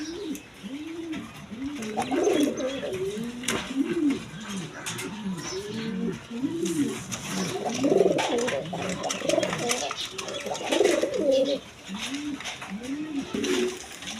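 Lahori pigeons coo steadily in soft, repeated rolling calls, several birds overlapping, with faint chirps and background noise throughout.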